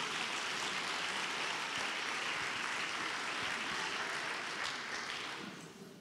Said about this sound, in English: You can give yourselves a round of applause.